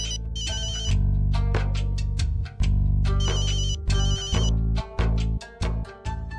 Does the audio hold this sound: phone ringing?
yes